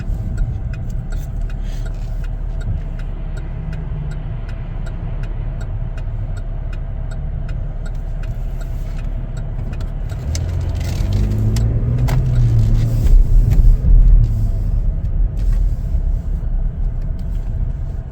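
A 2022 Chevrolet Traverse LT AWD driving on the road, heard from inside the cabin as a steady low engine and road rumble that swells louder for a few seconds near the end, with no talking.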